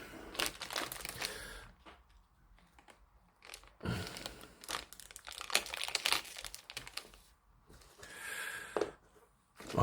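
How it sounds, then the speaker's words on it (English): Crinkly plastic bag rustles and crackles up close in irregular bursts as it is cut open, with brief quiet gaps between the crumpling sounds. "Sound of a plastic bag when it's been cut open."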